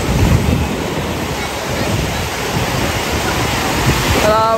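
Sea waves crash and surge onto the shore in a steady, loud wash of broadband surf, with wind buffeting the microphone and a brief voice near the end.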